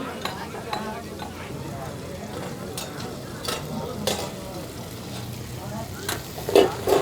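Smoked pork dry fry is stirred in a pan, a constant sizzle with irregular scraping strokes and a few sharp metallic clinks of the spatula, close up, with faint background voices.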